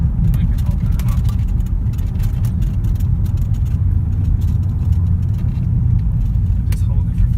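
A 2011 Cadillac CTS-V V8 with open exhaust rumbles in a deep, steady, loud idle or hold, its low throb continuous, with people talking faintly over it.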